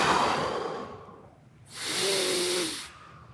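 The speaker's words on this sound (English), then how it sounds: "you're going to take 3 deep breaths and hold it for 1 or 2" A boxer's breathing drill: a long exhale hisses out, pauses briefly, then a second forceful breath rushes out close to the microphone.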